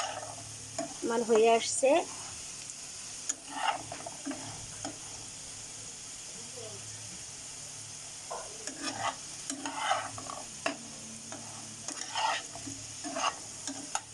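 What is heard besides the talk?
potatoes frying in oil for mutton curry, stirred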